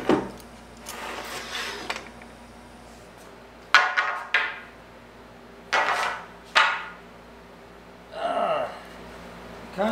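Hinge mortises being cut in wood in a workshop for a folding heat shield, heard as several separate sharp knocks and chopping strikes in short bursts, some with rasping scrapes, close and fairly loud with quiet gaps between.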